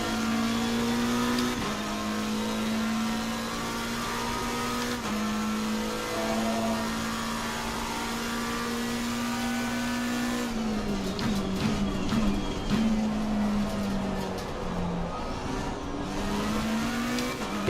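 Race cars in Assetto Corsa Competizione roar through a night race at Kyalami, a Nissan and a BMW among them. Engines drone steadily and climb in pitch through gear changes, and a denser burst of rasping revs comes late.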